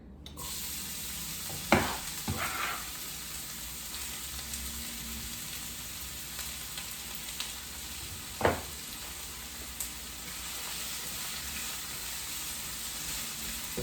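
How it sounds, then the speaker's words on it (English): Onion frying in olive oil for a basic tomato sauce gives a steady, close sizzle throughout, with a few brief clatters of stirring near the start and one more sharp knock midway. "add a couple tablespoons of olive oil, and I'm gonna get the onion in"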